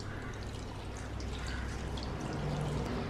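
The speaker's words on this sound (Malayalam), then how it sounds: "എന്നിട്ട് നമ്മൾ ചായക്കപ്പിന് 1 കപ്പ് വെള്ളം അതിലേക്ക് ഒഴിക്കാം." A cup of water pouring into a pot, a soft, steady, continuous stream of liquid heard up close and fairly quiet.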